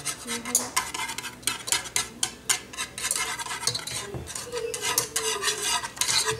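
A large spoon scrapes and clinks steadily against a bowl while stirring chocolate cookie batter, a busy rhythmic scraping heard up close, with no talking.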